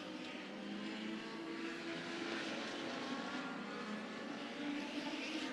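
Legends race cars at Rockford Speedway drone steadily in the distance, a faint, continuous engine buzz that swells slightly near the end.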